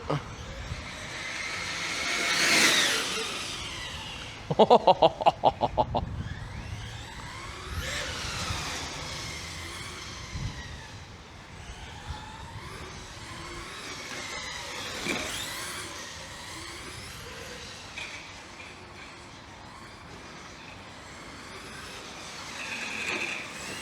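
A Traxxas Rally VXL-3S brushless RC rally car blasts across a parking lot at full throttle, its high-pitched electric whine surging and fading as it passes, with a sharp rattling burst midway and steady outdoor background.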